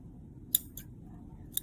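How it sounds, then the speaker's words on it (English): Scissors snip through thread while a felt bow is being made, three short sharp clicks in quick succession, close and crisp over faint room noise. "these are not good thread cutting scissors"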